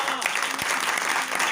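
Audience applause in a religious gathering, a dense steady wash of clapping hands filling the room throughout, fairly loud and continuous, with faint voices mixed into the crowd noise.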